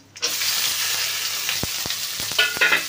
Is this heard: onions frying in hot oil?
yes